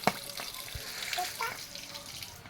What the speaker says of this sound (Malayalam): സൈഡ് കൂടെ വെള്ളം പോയിക്കൊണ്ടിരിക്കുന്നുണ്ട്